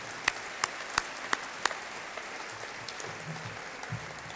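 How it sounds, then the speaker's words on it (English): An audience at Long Beach City College's State of the College Address applauds the Long Beach Unified teachers, opening with a few sharp, distinct claps over a soft wash of clapping that gradually fades, with no talking. "Please join me in a round of applause for all of our teachers in Long Beach Unified"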